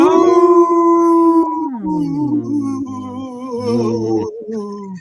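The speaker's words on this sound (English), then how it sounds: "Thanks for all the crazy howls." Wolves howl in long, loud, sustained wavering calls, several voices overlapping and sliding in pitch, close and clear with no talk.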